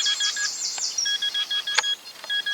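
A mobile phone gives a quick run of high electronic beeps and short chirping tones as someone presses its buttons outdoors in a field during metal detecting, bright and close with small gaps between bursts.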